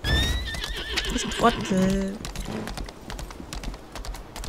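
A horse in the video game Lost Ark whinnies and neighs with a rising, wavering call, followed by a clip-clop of hooves, close and fairly loud under someone speaking German.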